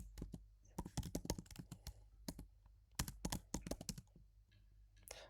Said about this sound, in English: I'm simply typing this.